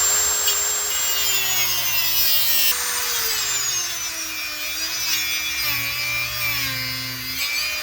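A steady rasping cut through plastic pieces on a stainless steel jet ski thru-hull fitting, a saw or blade grinding continuously, with shifting whining tones and no voices.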